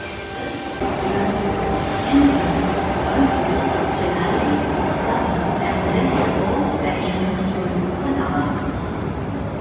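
Sydney Metro train running at Martin Place station, a loud steady underground rumble with faint wheel squeal and clatter filling the whole stretch, close and continuous.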